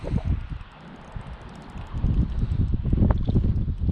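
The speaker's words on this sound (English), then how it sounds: "It's super windy." Strong wind buffets the microphone on a fishing outing, a loud, rough low rumble with gusts that swell and fade, growing heavier in the second half, with no voices.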